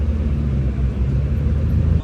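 McLaren Senna hypercar pulling in at a house gathering of hypercars in Connecticut, a steady, loud low engine rumble holding throughout with no speech.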